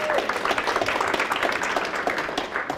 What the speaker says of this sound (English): A round of applause for Karma on that one